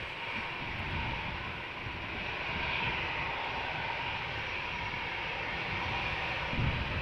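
An Aer Lingus Airbus A320-200 airliner, thirteen years old, departing Amsterdam Schiphol for Cork, gives a steady, broad engine roar at moderate distance that holds level throughout without a break.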